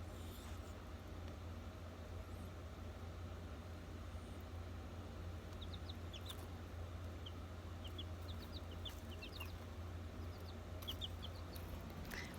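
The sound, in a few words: chickens clucking, guineas and pullets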